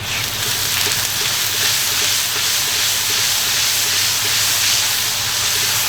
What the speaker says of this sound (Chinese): 把豆瓣酱一定要炒香，炒出红油啊。